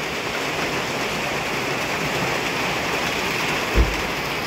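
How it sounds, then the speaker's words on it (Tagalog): Steady rain hisses continuously, even and fairly loud, with a single soft thump near the end. "Medyo umuulan, no?"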